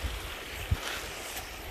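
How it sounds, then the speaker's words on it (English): Waves splash and wash steadily at a creek during a fishing outing, a continuous close, rushing texture mixed with wind buffeting the microphone, with a couple of brief low thumps and no talking. "I hear the waves splashing"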